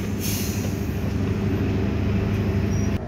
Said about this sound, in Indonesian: Di jalur 3 stasiun Surabaya Pasar Turi masuk KLB atau kereta luar biasa yang mengangkut balas.